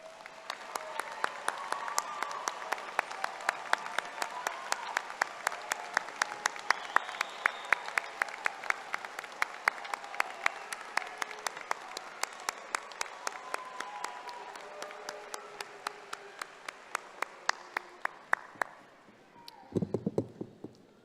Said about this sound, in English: the graduates may show their appreciation by a round of applause